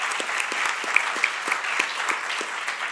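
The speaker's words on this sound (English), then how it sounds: "Can you please give him a round of applause?" An audience at a talk on music and social change gives a musician educator a round of applause, a thin spread of clapping with a few distinct sharp claps standing out, heard from a distance.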